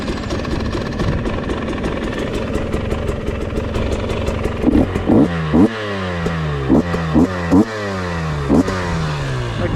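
A 2022 GasGas EC300 two-stroke dirt bike fires up close by and idles with a loud crackling burble, then is blipped through several sharp rising revs in quick succession, no one speaking.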